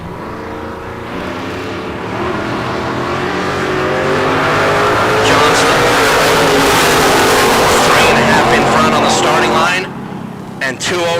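Drag race cars launch off the line at the K&N Southwest Showdown, one leaving first on a throttle stop, their engines roaring loud and rising as they race away, with a commentator talking over the noise.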